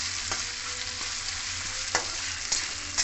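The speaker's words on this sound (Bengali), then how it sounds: "এরপর আমি কিছুটা নারকোল কুড়িয়ে রেখেছিলাম সেটাও দিয়ে তেলে ভালো করে ভেজে নেব" Grated coconut frying in hot oil in a pan for a vegetarian kochur shak dish, a steady close sizzle throughout with a few soft stirring knocks and scrapes.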